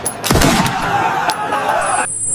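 A single close-range gunshot from a handgun fired at point-blank range, a sharp loud crack followed by a brief ringing tail and steady background hiss.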